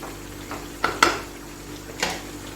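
Red and green chilies stirred into an achari potato curry in a pot: a few quiet clinks and scrapes of a spoon against the pot over a faint low background, with no talking.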